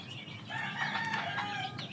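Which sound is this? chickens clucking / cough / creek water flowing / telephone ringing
chickens clucking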